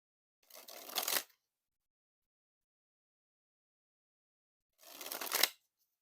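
Two short, close riffles of Carpe Noctem playing cards by Ellusionist, one near the start and one near the end, as the deck is handled and cut, with silence between.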